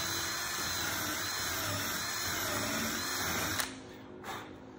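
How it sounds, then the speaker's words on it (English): A power drill whines steadily for several seconds while drilling holes in the wooden frames of a boat, then cuts off abruptly, followed by a short second burst. "I'm gonna just drill new holes"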